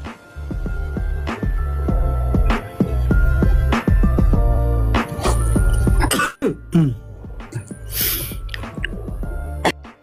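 Repeated harsh coughs come in a rhythmic series, loud and close, with throat clearing and a short break midway.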